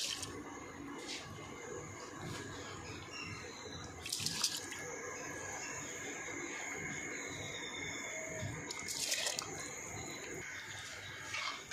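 Washed rice and water are poured into a pot for a large batch of plain kushka, with a steady wet trickle and sloshing broken by two louder splashy bursts, close and without talk.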